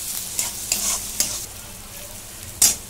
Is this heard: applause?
no